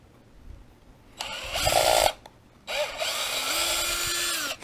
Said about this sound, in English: It's to take off rear,